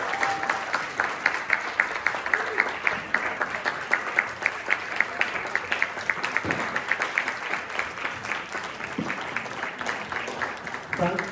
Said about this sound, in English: Round of applause for the entire panel.